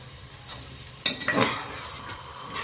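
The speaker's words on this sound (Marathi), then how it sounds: "आणि आता हे व्यवस्थित आपण परतवून घेणार आहोत." Undhiyu stuffing masala with water is stirred and sautéed in a pan, a sudden sizzle as it hits the hot surface followed by scraping stirs and softer frying crackle, close and alone.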